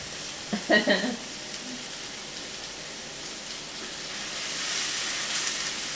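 Salmon and prawns frying in a pan for a biryani, a steady soft sizzle throughout with a brief clatter near the start.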